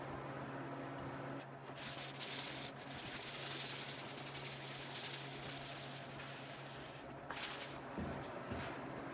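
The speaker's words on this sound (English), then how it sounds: "Once the shelf is dry, I take a green pad and then do a light hand sanding." A green abrasive pad is rubbed lightly by hand over a Baltic birch plywood shelf, giving a continuous close, scratchy sanding hiss in steady strokes with a faint background hum.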